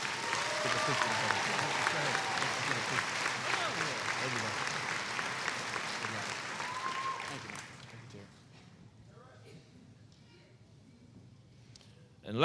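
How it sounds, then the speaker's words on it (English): An audience at a spring 2016 college commencement applauds a staff member retiring after 30 years of service. The steady, dense clapping runs for about seven seconds, then fades into near silence. "Let's give him a round of applause."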